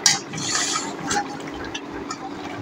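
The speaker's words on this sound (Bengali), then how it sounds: "আমার মাছগুলো দিয়ে দেব" Mrigel fish pieces going into a boiling potato curry, a brief watery splash and bubbling burst up front, then steady low simmering and liquid movement close by, with no talking.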